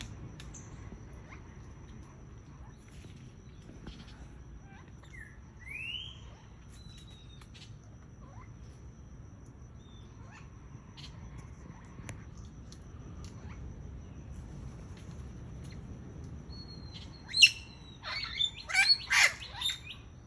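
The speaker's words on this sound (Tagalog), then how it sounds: "Ayun yung mga parrot o." Parrots calling outdoors near trees where one feeds on ipil-ipil, a burst of loud squawks and chirps arriving near the end over a steady low ambient rumble, with a few scattered faint calls earlier.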